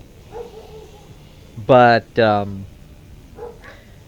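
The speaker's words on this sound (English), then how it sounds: "I apologize for the barking" Dogs bark at home: two loud, close barks in quick succession in the middle, with quieter speech before and after.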